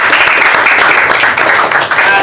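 A crowd at a YouTuber meetup in Banjarmasin claps loudly and close for a short burst. Voices are mixed in with the dense applause.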